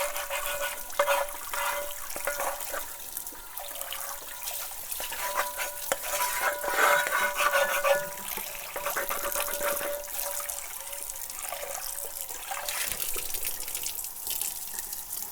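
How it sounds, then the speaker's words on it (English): Hot tap water runs over a cast iron pan as it is rinsed clean, a continuous splashing rush with scraping and clattering against the metal, moderately close and without speech. "I actually will just use hot tap water, and we're just going to rinse this clean really quick"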